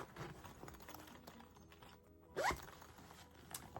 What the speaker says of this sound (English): I keep zipping it the wrong way